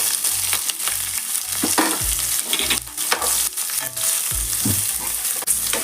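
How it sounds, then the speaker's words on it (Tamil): Onions with curry leaves sauté in a hot pan for a paneer gravy, a steady close sizzle with repeated scraping stir strokes keeping an even rhythm throughout, no voices. "வெங்காயம் நல்லா பொன்னிறமாக வர வரைக்கும் ஒரு 2 நிமிஷம் ரோஸ்ட் பண்ணணும்."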